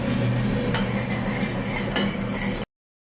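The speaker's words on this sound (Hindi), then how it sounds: "यहाँ पे मैं समा के चावल भून रही हूँ" Samak rice roasting in a pan, a soft steady sizzle with occasional clinks and scrapes of a utensil stirring against the metal, fairly close and quiet, ending abruptly in silence.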